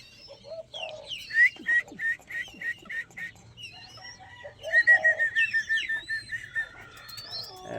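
Zebra doves kept as breeders call in repeated rounds of soft, rhythmic cooing, bursts of evenly spaced notes rising and falling close by, with brief chirps and other bird sounds mixed in and no talking.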